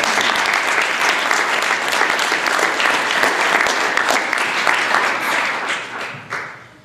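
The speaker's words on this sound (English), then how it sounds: "I would like to give everyone on the staff a huge round of applause for all the hard work" A room of attendees at an Urban League gathering applauds the staff, a dense, steady wash of clapping that holds evenly and then tapers off in the last second.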